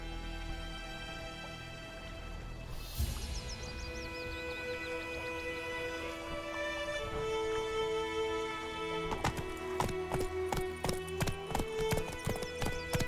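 Roach the horse galloping in The Witcher 3, a steady rapid clip-clop of hooves with a whinny near the start, set against a musical game soundtrack, hoofbeats growing louder and clearer toward the end.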